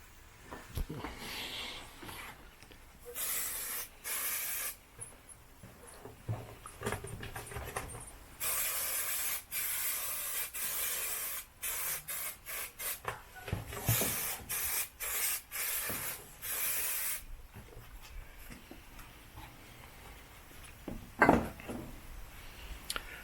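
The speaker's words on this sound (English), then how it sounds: "Nice thick band of spray contact adhesive there" Repeated bursts of hissing aerosol spray contact adhesive, some short and some held for a second or two, with quiet pauses between them, while fitting a Mk1 Golf hood.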